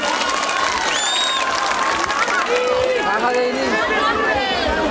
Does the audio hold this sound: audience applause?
yes